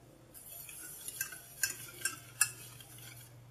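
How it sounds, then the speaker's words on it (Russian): Eggs, sugar, vanillin and starch for custard cream are mixed by hand in a bowl, with a quiet, steady scraping broken by a few sharper clinks of a utensil against the side, all close and without any talk. "Взбивать не надо, просто тщательно перемешать."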